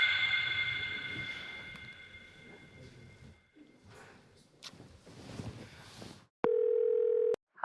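A telephone call being placed to Aunt Rosa at night, ending in a loud, steady electronic tone from the handset after a stretch of faint rustling and quiet movement.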